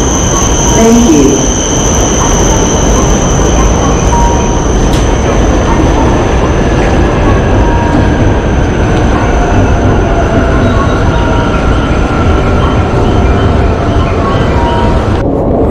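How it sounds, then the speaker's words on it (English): Shinkansen bullet train at Tokyo station, a loud sustained rail rumble with high-pitched wheel squeal and a tonal whine drifting in pitch, continuous for the whole stretch with faint voices. "Getting on the Shinkansen now."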